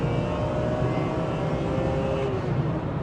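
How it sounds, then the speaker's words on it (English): A 350 bhp BMW E46 M3 CSL replica engine holds a sustained high rev, its steady loud drone with rising harmonic tones booming continuously through the cabin from start to finish. "Like how can an engine rev for that long?"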